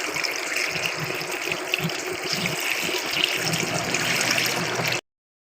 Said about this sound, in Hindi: अब इसमें हम 4 कप पानी ऐड कर देंगे।